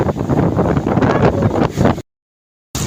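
Strong typhoon wind buffets the microphone beside a lake at Binangonan, a dense, gusty roar that cuts out abruptly to silence before returning briefly.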